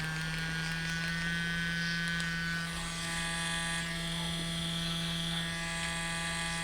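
Steady electric buzzing hum from a tattoo machine running at 9 volts, continuous, close and fairly loud, with a strong low drone and bright high whine.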